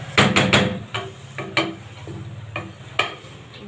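A spoon stirs cooked pulao rice in a pot, scraping in a quick run of sharp strokes at first, then slower separate scrapes and knocks against the metal, close and fairly loud with no talk.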